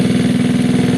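A Gilera DNA 125cc motorcycle engine running at idle, a steady loud close-up thrum with even rapid pulsing and no pauses.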